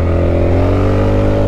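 Honda Forza 350 scooter engine drones loud and close as it pulls away from a full-lock U-turn, a steady harmonic hum rising slightly in pitch as it accelerates.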